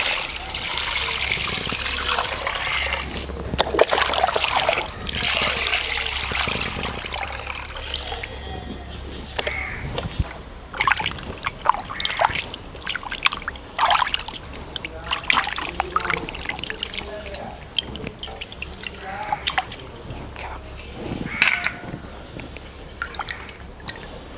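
Tap water running and splashing while chicken leg pieces are washed in a village kitchen, irregular trickling and dripping with sharper splashes, a person talking over parts of it.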